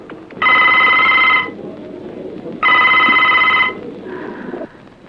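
A telephone rings at a police station in two long, loud electronic trills separated by a pause, followed by a softer, shorter tone.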